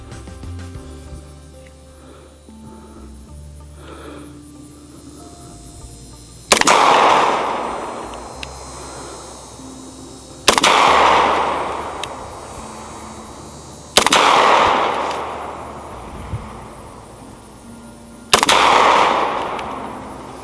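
Four loud 9mm shots from a Caracal F handgun at an outdoor range, spaced several seconds apart, each a sharp crack with a ringing decay; faint low background between shots.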